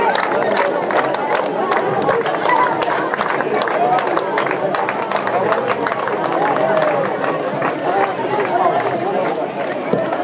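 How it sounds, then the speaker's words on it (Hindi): Under-19 girls' tournament players give the chief guest a loud welcome of clapping at a closing ceremony; dense sustained applause from a large crowd mixed with cheering and chatter, steady throughout. "खिलाड़ी छात्राओं द्वारा आज के मुख्य अतिथि का जोरदार ताली के साथ स्वागत।"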